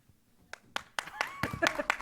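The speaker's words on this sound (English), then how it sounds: "There's a lot more applause in this session than I've seen in the other ones." Scattered audience applause at a housing organizations conference session, starting as a few isolated claps and building into a denser patter of hands, with a voice speaking over it near the end.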